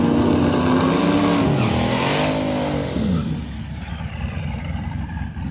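A drag racing car at Mega Week roars through its final pass, with a loud engine note that climbs through several gear-like rises before fading into distant rumble and crowd ambience.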